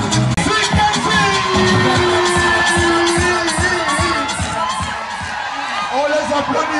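A concert crowd at a Sikensi 2023 show cheers, whoops and applauds. The noise is loud and continuous, with shouting voices and talk mixed into the roar.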